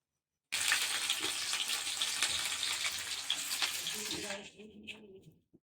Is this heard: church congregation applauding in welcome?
no